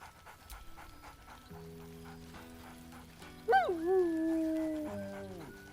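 A dog in Baldur's Gate 3 pants softly and rhythmically, then lets out a rising, drawn-out whine that slowly trails off, close and clear with no talking.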